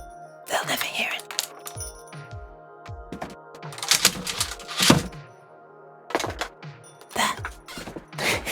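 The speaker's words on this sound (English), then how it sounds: "Let me super quietly put this keyboard away." A computer keyboard is handled and set down quietly, giving scattered soft thumps, clicks and faint rattles at close range in a quiet room.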